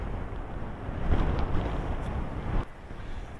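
Strong wind during Storm Franklin on the rocky coast at Auchmithie buffets the microphone in a loud, continuous roar, swelling in gusts and then dropping off sharply near the end.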